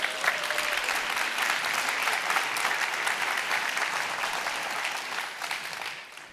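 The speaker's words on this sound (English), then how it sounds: "So one more final round of applause, please, for the young women." Sustained audience applause at an autumn school seminar for a group of young women performers, a steady dense wash of many hands clapping, even and full, tapering slightly at the end.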